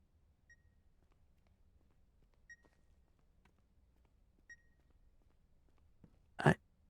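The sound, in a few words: bomb beeping in The Beast Inside video game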